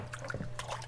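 Aquarium filter sponges shaken in a container of water in a fish room, giving quick splashing and sloshing bursts with a low steady hum behind.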